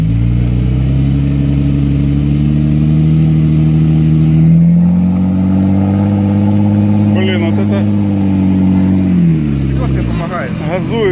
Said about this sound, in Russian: Газует сильно.